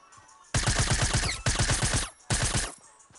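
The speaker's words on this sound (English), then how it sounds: "I'm laying a couple shots on him" Three loud bursts of rapid automatic gunfire in a video game, each a fast string of close, sharp shots separated by brief pauses.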